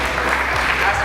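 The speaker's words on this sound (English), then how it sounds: "please let's give a huge round of applause" A brief burst of dense, steady applause from a crowd, loud and continuous throughout, with a voice faintly mixed in.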